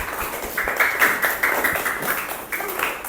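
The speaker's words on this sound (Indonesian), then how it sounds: "Tepuk tangan untuk kelompok 2." Classroom applause for a student group, a steady wash of many hands clapping at moderate distance, swelling in uneven bursts across the whole stretch with a faint murmur of voices beneath.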